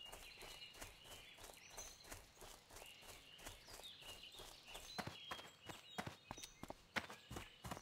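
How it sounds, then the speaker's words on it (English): Character footsteps in World of Warcraft, a run of quick soft steps that turns into sharper, spaced crisp strikes near the end, close and fairly faint with no talk. "I like how the footsteps, like, change sounds"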